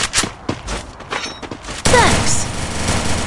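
Bursts of gunfire from Free Fire gameplay, scattered shots followed by a sustained rattling volley, moderately loud, with a voice speaking over part of it.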